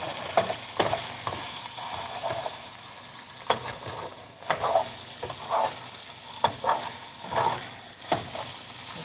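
Chopped sausage sizzles as it browns in a frying pan, a soft steady crackle broken by repeated scraping and clacking stirs of a utensil against the pan over several seconds, with no talking.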